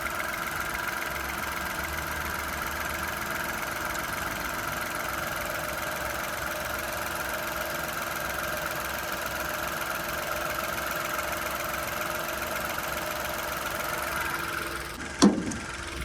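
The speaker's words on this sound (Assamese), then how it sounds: "ইঞ্জিনৰ চাউণ্ডটোৱে শুনক গাইজ কিমান ধুনীয়া হৈ আছে" Nissan Magnite XV turbo car engine idling steadily at low volume, a continuous even hum with no talk, ending in a brief sharp click or knock near the close.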